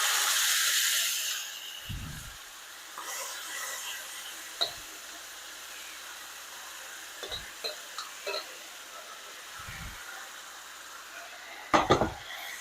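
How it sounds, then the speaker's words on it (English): Marsala wine poured into a hot pot bursts into a loud hissing sizzle that quickly fades, followed by quiet stretches broken by a few sharp utensil clinks and knocks against cookware. "Now into this same pot, we'll take our marsala."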